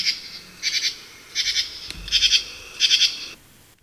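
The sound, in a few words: bright green insect calling at night, not crickets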